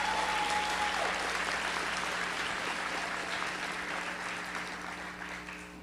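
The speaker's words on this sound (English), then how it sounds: "that deserves a round of applause" Steady applause from a crowd at a graduation ceremony, dense and sustained, gradually tapering off toward the end with no talking.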